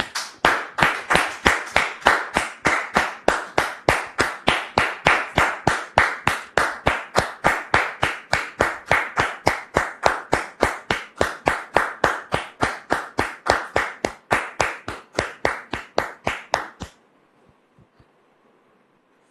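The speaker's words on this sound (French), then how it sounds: "Sous vos applaudissements, s'il vous plaît." Clapping greets a guest on a talk show: single claps landing in an even, steady rhythm of about three per second, crisp and close, running for roughly seventeen seconds before stopping abruptly into near silence.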